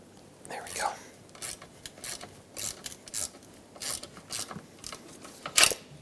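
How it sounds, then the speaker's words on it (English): A ratchet loosening bolts on a 2008-2010 Ford F-450 Super Duty clicks in short bursts, rasping metallic ticks repeating irregularly at close range against a quiet background. "Once you break them free like that with a bigger ratchet"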